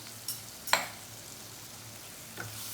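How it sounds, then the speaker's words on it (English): Whole spices and coriander powder fry in a hot tadka for black masoor dal, a faint, soft sizzle in the pan. A couple of sharp clinks from a spoon stand out. No talking. "Cook these into the tadka or the tempering."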